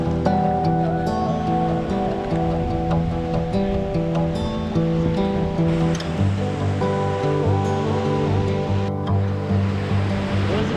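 A huge waterfall in the Rockies roars with a steady, loud, broadband rush of water, continuous and unbroken throughout with no voices over it.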